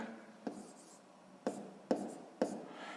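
Pen or marker strokes writing numbers into a table, four short scratchy taps spaced about half a second to a second apart, quiet and close.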